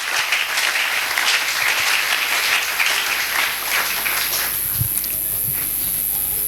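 A church congregation claps continuously in a dense, steady wash of applause that fills the room, with a few heavier thuds near the end.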